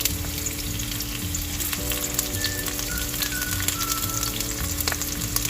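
Onions fry in hot oil for pinakbet with a steady, close sizzle that runs unbroken throughout. A faint musical tone hums underneath.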